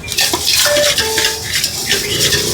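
Churmuri puffed rice is being tossed and stirred with coconut oil, chilli powder, turmeric and salt, giving a close, crisp rustling and scraping with light clinks of a utensil against a bowl.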